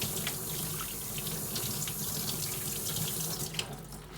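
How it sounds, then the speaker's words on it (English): Tap water runs steadily while rinsing soap off the tender of a 1945 Lionel 2026 toy train, a continuous faucet splash filling the whole stretch with no talk. "after you get it all soap, you turn on your water"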